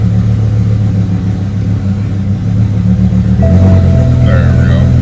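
A BMW M6 with an ignition coil misfire in limp mode, its engine running as a loud, steady low rumble up close, with a thin whine joining partway through.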